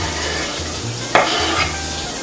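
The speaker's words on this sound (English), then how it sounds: "A little olive oil, and then start the garlic going." Garlic sizzling in olive oil in a pan, a soft steady frying hiss with a brief stirring scrape partway through, close and alone.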